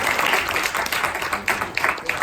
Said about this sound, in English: hopefully we can give them all a round of applause for that.